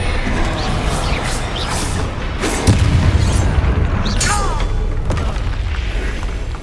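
Bombarda spell explosion in the video game Hogwarts Legacy: a deep booming blast lands midway through continuous loud combat noise, with whooshing and sharp magical zips and pops around it.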